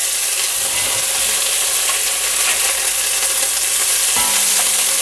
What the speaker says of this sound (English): You switch to a spatula. Make sure you do a nice scraping action.